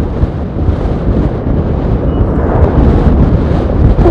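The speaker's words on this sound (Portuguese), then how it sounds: "O vento pegou demais!" Strong wind buffeting on a loose gravel road, a loud continuous roaring rumble of wind noise that stays heavy and steady, with no talking.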